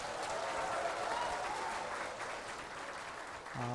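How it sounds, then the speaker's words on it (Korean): An audience at a live public broadcast event in Jeonju gives steady, moderately distant applause welcoming the speaker, with a brief low tone near the end. "뜨거운 박수 부탁드리겠습니다."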